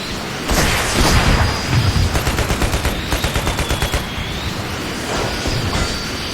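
Rapid automatic gunfire in the Renegade X video game, loud bursts of shots in a fast steady rhythm with a few heavier impacts and battle noise around them, and no talking.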